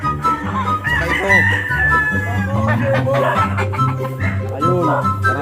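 On Woowoot Farm, chickens cluck busily while roosters crow several times in loud drawn-out calls, close by and overlapping in a lively farmyard chorus.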